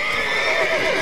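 Horses whinny loudly in The Witcher 3 game, a drawn-out neigh that rises and falls, with hooves shuffling underneath.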